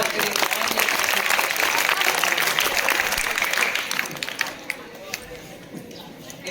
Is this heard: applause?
yes